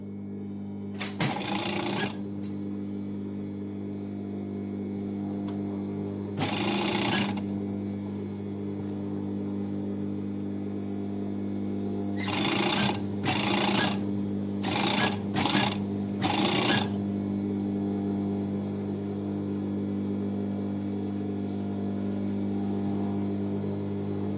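Sewing machine setting a sleeve into a dress with pockets: short bursts of whirring stitching, first two single runs, then a quick cluster of brief stop-start stitches, over a constant low mechanical hum, close.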